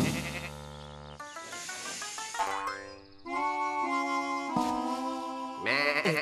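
Cartoon sheep bleating loudly in a children's farm animation, a wavering tremolo cry among boings and musical sound effects, with no talking.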